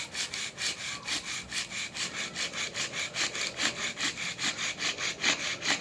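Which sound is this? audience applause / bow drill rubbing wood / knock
bow drill rubbing wood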